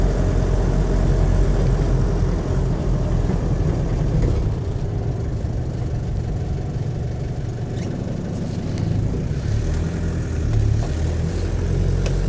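The standard 2.5 litre normally aspirated diesel of a Land Rover 90 hardtop runs steadily, a loud, dense low rumble and clatter that holds level throughout with no talk.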